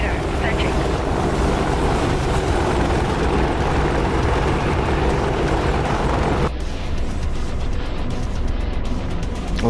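Rotor and engine drone of an Apache attack helicopter in a combat video game, a steady broadband roar throughout that thins abruptly past the midpoint into a lighter, airier rumble.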